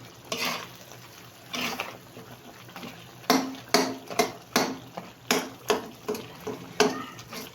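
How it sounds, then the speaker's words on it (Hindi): Tomatoes for a Peshawari charsi mutton karahi are mashed in the karahi, making a regular series of wet thuds and scrapes from a utensil, close and moderately loud, with a soft simmer underneath. "अब हम इसको टमाटरों को मैश कर लेंगे।"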